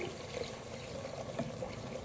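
Water poured from a glass into a pan of fried minced meat and peas, a steady soft splashing trickle that runs continuously and fairly close, with no talking over it.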